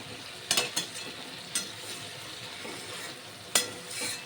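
Spice paste sautéed in a pan for a village-style Bengali fish curry, a steady sizzle with several sharp scraping stirs of the spoon, close and clear, with no talking.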